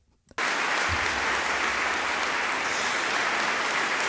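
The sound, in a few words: applause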